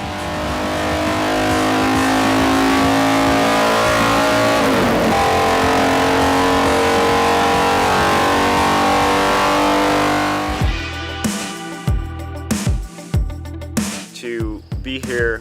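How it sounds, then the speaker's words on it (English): Indian hill climb motorcycle engine revving loud and close, a sustained high-pitched roar for about ten seconds, then breaking into sharp, choppy blips of throttle as it cuts in and out. "The Indian engine has a very strong wide power curve"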